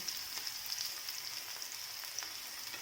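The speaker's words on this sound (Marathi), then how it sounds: "मोहरी आपली तडतडली चांगली त्याच्यात अगदी चार पानं कडेपत्त्याचे आणि त्याच्यातच लसूण आणि जिरे घेतलेले ते टाकले" Mustard seeds, curry leaves, garlic and cumin crackle in hot oil with a steady, close, bright sizzle and scattered pops, heard alone without talk.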